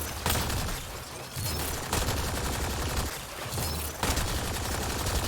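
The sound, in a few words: assault rifle gunfire in video game Mass Effect: Andromeda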